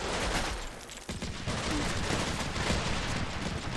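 Small arms gunfire in the combat video game Combat Mission Shock Force 2, dense and continuous crackling volleys rolling on steadily, loud and close.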